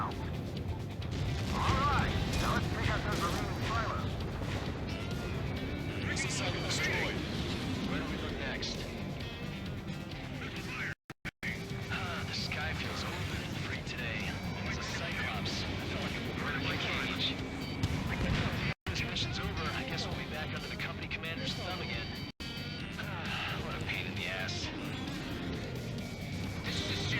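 Bombs and missiles crash and explode in the jet combat game Ace Combat 7: Skies Unknown, a dense run of booming impacts and roaring engine noise under near-constant radio chatter and talk.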